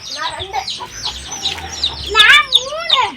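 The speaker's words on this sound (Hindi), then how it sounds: "तमिलनाडु के घर पहाड़ के ऊपर के मुर्गी पकड़ाता।" Chickens clucking and squawking in a hilltop village in Tamil Nadu as they are being caught, with agitated bursts of calls, a louder flurry of squawks near the end.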